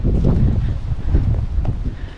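Gusty wind buffets the microphone outdoors in the English countryside, a heavy low rumble that surges and eases in waves throughout, with no talking.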